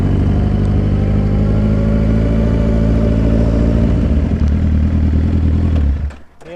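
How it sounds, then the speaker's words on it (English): A loud Harley-Davidson motorcycle engine rumbles close by with a deep, steady idle and slight revving, then cuts out abruptly near the end. "My bike is so loud."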